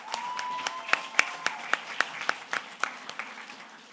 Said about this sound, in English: let's give one last round of applause to all of our student presenters